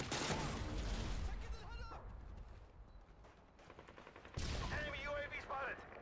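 Tap-fired shots from an AUG rifle with a thermal sight in a shooter game, a few clipped cracks at the start and again near the end, with quieter game ambience in between.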